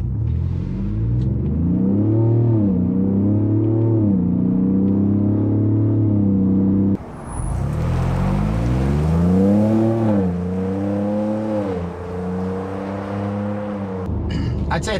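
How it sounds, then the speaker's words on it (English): A 2021 Ford Bronco with a Magnaflow exhaust and a dyno tune makes a part-throttle pull: a loud, close engine drone that rises in pitch, drops briefly midway, then climbs again and settles. "Now we're gonna do a part throttle pull away."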